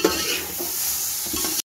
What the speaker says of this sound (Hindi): ये कीमा डाल दूँगी